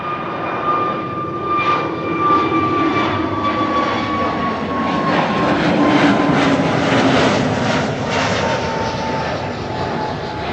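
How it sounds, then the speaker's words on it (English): A KLM Airbus A321neo jet at Amsterdam Schiphol Airport, its engines giving a steady, loud roar with a whining tone that slowly falls in pitch as the aircraft passes. "KLM A321neo"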